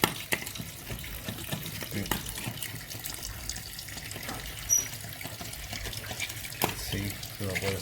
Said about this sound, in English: Now I just run the water for a little bit